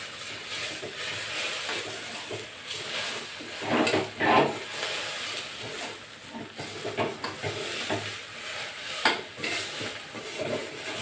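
Greens sautéing in hot oil in a pan, stirred and turned with a utensil; a steady close sizzle runs throughout, with scraping stirs and brief louder clatters around the middle, no talking.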